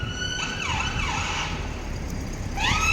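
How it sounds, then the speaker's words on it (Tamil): Emergency ambulance siren wailing on a street in Kingston, London, its rising and falling tone sweeping repeatedly over steady traffic rumble, fairly close and growing louder toward the end. "ambulance, emergency ambulance"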